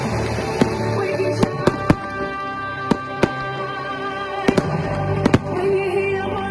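Christmas fireworks salute: about a dozen sharp bangs and crackles burst irregularly over steady background music, some spaced apart and a few clustered close together.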